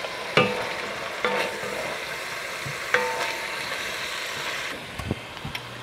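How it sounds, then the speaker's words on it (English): Mushrooms sizzle and fry in a pan, with a few sharp stirring scrapes and clatters standing out over the steady, moderately loud hiss. "And then I'm gonna add in those mushrooms."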